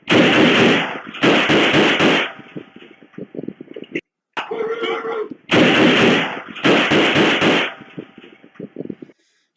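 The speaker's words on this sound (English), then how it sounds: "So I count 7 shots." Gunfire during a police shooting in Indianapolis, heard as loud broadband bursts in clusters with sharp rattling tails and brief gaps, one shouting voice between the volleys.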